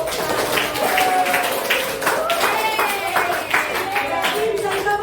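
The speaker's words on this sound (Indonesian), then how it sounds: "Ayo tepuk tangan" Children clap their hands together in a classroom activity, a run of quick, uneven claps mixed with lively voices and a teacher's singing-like speech over the top.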